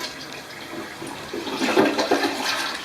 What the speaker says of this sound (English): I'm going to flush